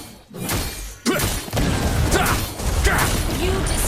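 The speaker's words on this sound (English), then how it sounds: "You destroyed a turret!" A Mobile Legends turret collapsing makes a burst of heavy thuds and crashing impacts with shattering debris, loud and close, followed by continued clattering game effects.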